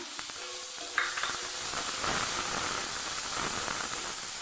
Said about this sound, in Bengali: এবার পেঁয়াজটাকে লাল করে একটু ভেজে নেব